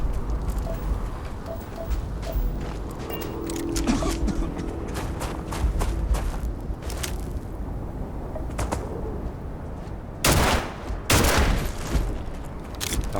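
Gunfire in the space role-playing game Starfield: scattered ambient clicks and chirps, then two loud, sharp shots close together near the end, with faint background murmur.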